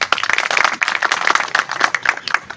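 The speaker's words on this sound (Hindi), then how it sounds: "जोरदार तालियों से स्वागत करें।" Welcome applause for a police station officer at a station day event: dense, steady hand clapping from an indoor crowd, lively and sustained throughout without talk.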